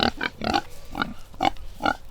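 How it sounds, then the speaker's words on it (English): Pigs on a homestead grunt close by in a quick series of about six short, rough bursts with brief pauses between them. "So the pigs are doing great."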